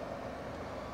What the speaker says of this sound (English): That noise you can hear is because the air conditioning is on inside the car and the car is switched on.